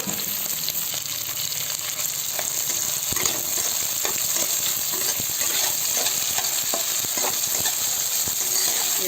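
Chopped onions and green chillies sizzle steadily in hot oil for rava khichdi, a continuous close crackle with occasional stirring clicks and scrapes throughout.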